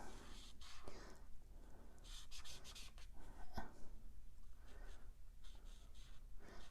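A Stampin' Blend marker in Night of Navy coloring on paper, with soft repeated rubbing strokes in short bursts, faint and close, separated by brief pauses.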